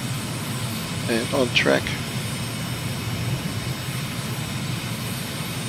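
A steady drone of an aircraft engine climbs in a flight simulator video game, a constant, moderately loud hum under a man's brief radio-style talk.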